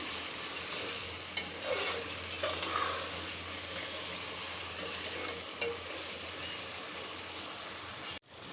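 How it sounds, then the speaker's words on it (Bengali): Pre-fried chicken pieces and potatoes being stirred and fried in a pot for dum biryani, a steady dense sizzle with soft scraping, ending in a brief abrupt break. "মাংস আলু দিয়ে একটু কষায় নেব"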